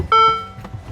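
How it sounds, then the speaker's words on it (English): A single short electronic beep from a car, a bright tone lasting a fraction of a second, followed by a soft thunk. "Beep, beep, beep, beep."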